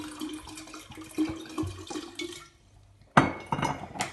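Water is poured into a jar for lemon kefir in short gurgling bursts, quiet and close, pausing briefly before a louder splashing pour resumes.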